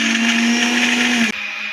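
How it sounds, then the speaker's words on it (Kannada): An electric mixer grinder whirs loud and steady, grinding ginger and garlic into a paste, then cuts off abruptly, leaving a quieter hum. "ರುಬ್ಬಬೇಕು."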